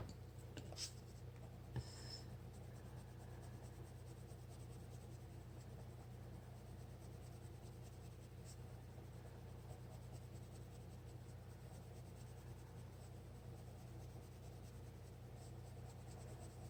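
A marker rubbing across paper in steady, quiet strokes, a soft continuous scratching close by that runs throughout with no talk over it.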